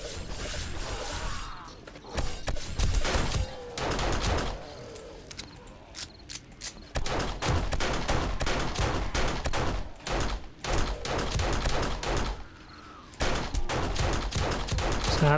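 Rapid video game gunfire rattles in loud, dense bursts aimed at zombies during a horde night defense of a base with blade traps, broken by brief pauses, with no speech.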